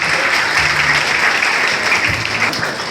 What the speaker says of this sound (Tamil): இதுக்கு கைத்தட்டணும்.